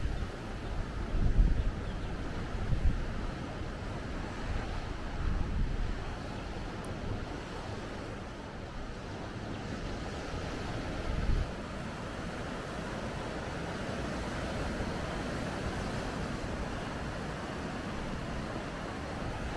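Wind gusts at the seaside at a somewhat sheltered outdoor painting spot, with a low steady rush, a few stronger gusts, and surf faintly beneath, no voices.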